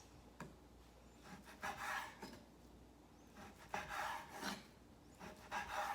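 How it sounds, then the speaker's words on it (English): Knife slicing raw flank steak into thin strips against the grain on a cutting board, a series of soft, close rasping strokes in an uneven rhythm, faint and without talk. "we want to cut against the grain going this way. And just thin little strips."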